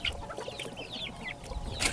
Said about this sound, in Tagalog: pati mga manok dito kagulo na sa akin tabi